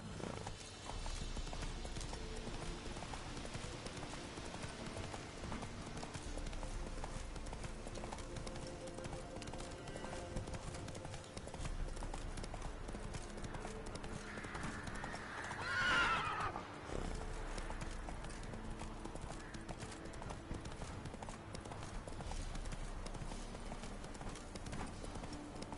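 Roach, a horse in The Witcher 3 video game, trots with a steady clip-clop of hooves and gives a clear whinny partway through, set against quiet game ambience.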